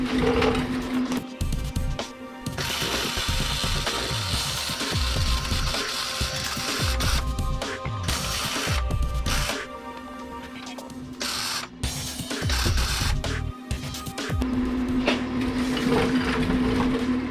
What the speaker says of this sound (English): Nice good hot weld through there.